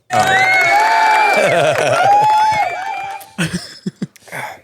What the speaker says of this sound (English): that was your cue to do the clapping